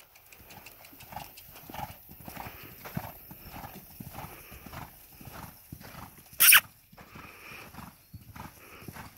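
A horse canters in a beginner equitation class, its hooves beating a steady, repeating three-beat rhythm at moderate distance, with one short sharp burst partway through and no voices.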